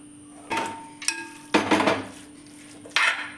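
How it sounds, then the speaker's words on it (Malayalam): A spoon clinks and scrapes through beef and cooked plantain in a pan, mixing a Kerala-style beef and plantain ularthu, with a few separate metallic bursts of stirring near the microphone. "നന്നായിട്ടൊന്ന് മിക്സ് ചെയ്ത് ഇളക്കി കൊടുക്കാം."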